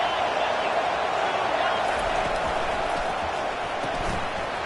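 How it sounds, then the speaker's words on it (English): Steady stadium crowd roar from a College Football 25 game, a dense, continuous wash of cheering and noise at constant loudness throughout, with a commentator's voice faintly mixed in. "This crowd trying to make life miserable for this offense."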